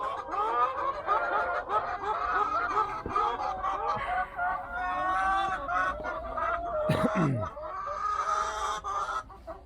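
Chickens in a backyard coop cluck and chatter continuously, several birds overlapping at moderate distance, with a brief sharper squawk near the end and no speech.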